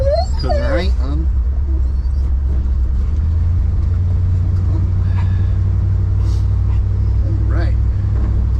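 The engine of an old truck rumbles low and steady while it drives down the road, loud and constant throughout, as a dog whimpers and yips and a person talks over it.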